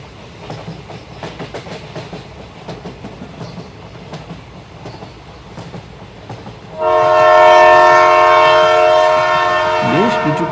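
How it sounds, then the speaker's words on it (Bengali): A train running at night toward Sealdah station, its steady rhythmic clatter rolling close by before a loud, sustained horn blares over it for several seconds. "কিছুক্ষণ পর ট্রেন পৌঁছে গেল শিয়ালদা স্টেশনে।"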